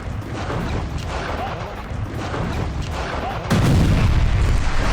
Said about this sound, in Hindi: हमा को विद्रोही कब्जे से बचाने के लिए बमबारी की जा रही है।